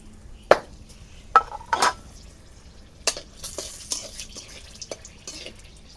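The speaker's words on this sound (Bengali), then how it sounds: "এই তেলে আমি শুকনো লঙ্কা ভেজে নেবো।" Dried red chillies fry in oil on a village clay stove, giving a low sizzle broken by several sharp spatters and stirring scrapes at irregular intervals, all close and with no talk.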